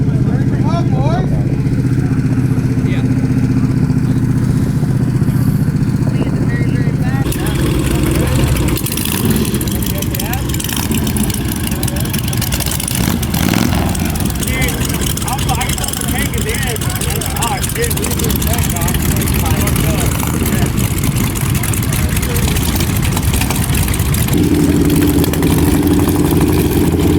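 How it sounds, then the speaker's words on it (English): A motorcycle engine from a scramble ride, suspected of smacking a piston, runs loud and close with a rough, throbbing idle and revving that shifts partway through, while people talk over it. "I think you hear it smacking a piston"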